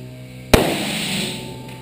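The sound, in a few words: gunshot from Kahr PM45 pistol test firing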